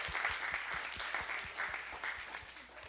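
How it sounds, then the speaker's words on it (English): A small audience claps for a pianist, quiet and somewhat distant, with a steady patter of hands that holds through the whole stretch. "can we just give her a round of applause and really honor her?"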